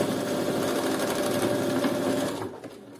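A sewing machine runs a steady straight stitch through bikini fabric, its rapid even needle chatter close and continuous before slowing and stopping near the end.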